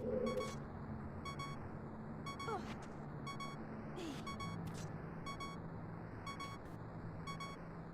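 Low-health warning beep from Ocarina of Time: a steady repeating electronic double-beep pulsing about twice per second throughout, over a busy background of game sounds.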